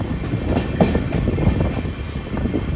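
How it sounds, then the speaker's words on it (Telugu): The Haripriya Express, on its Londa to Tirupati run, rolls straight through without stopping: a continuous rumble and clatter of wheels on rails, heard from on board and fairly loud, with no voices. "ఇక్కడైతే స్టాప్ అయితే లేదు, నేరుగా పోతూ ఉంటుంది మన ట్రైన్ అయితే"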